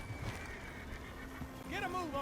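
A horse in the video game Red Dead Redemption 2 gives a whinnying neigh near the end, over a low ambient background; speech is also present.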